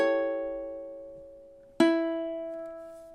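A ukulele plays two separate strummed chords for measure 30 of a song, each ringing out and slowly fading, with the second chord struck about halfway through; clear and close, with no talking.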